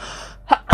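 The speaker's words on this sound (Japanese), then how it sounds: "くしゃみ出ました。" A single loud, close human sneeze bursts out after a short quiet intake, sharp and explosive, with faint background hum before it.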